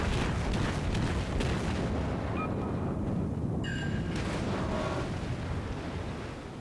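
Main guns of the Ishizuchi battleship firing in World of Warships, a heavy roaring boom sustained across the whole stretch and slowly fading toward the end.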